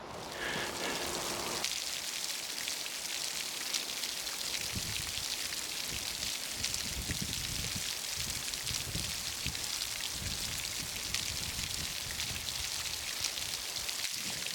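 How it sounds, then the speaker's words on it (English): Rain falls steadily on a forest walk at Highwoods, a dense, even patter on leaves and the ground that stays loud and continuous throughout, with no voices. "this rain is not going to prevent me from continuing on my merry way"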